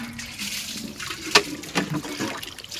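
Tap water runs and trickles while dishes are washed by hand, with occasional clinks of utensils, fairly soft and close, with no talk.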